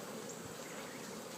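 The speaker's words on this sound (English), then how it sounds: "Keep the bees calm and mellow." Honey bees hum steadily inside a queenless incubator hive holding caged queens, a dense, continuous close-up buzz with no pauses and no voices.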